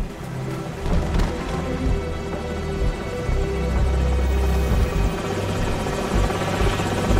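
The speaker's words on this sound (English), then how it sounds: "Enemy helicopters." An enemy helicopter's rotors in Call of Duty 4: Modern Warfare thump and drone steadily and loudly, close by and continuous, with no talking.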